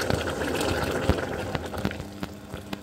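About two litres of freshly boiled kettle water pour into a hot pan for pasta, a steady close-up rushing splash that runs without a break.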